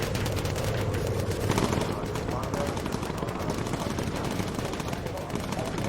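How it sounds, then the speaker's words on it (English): Rapid machine-gun fire from bomber gunners in the video game Bomber Crew, rattling continuously at close range throughout, with a heavier burst partway through. "Cupcake, focus fire with incendiary ammunition."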